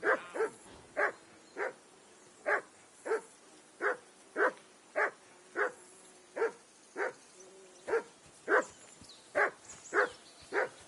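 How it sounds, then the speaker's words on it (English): A dog barks in the video game Kingdom Come: Deliverance 2, giving about seventeen evenly spaced, moderately loud barks in a steady rhythm over faint ambient background. "Call off that mutt of yours!"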